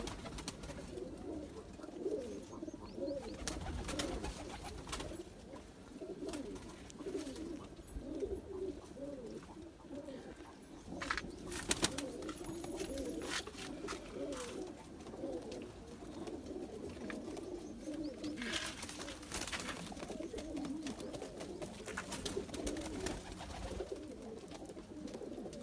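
Silver Zeera pigeons coo steadily throughout, several low throaty calls overlapping in a continuous murmur, with occasional brief rustles and flutters nearby.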